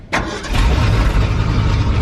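A 1988 Ford F250 truck engine turns over and catches, then settles into a steady, loud, close rumbling run.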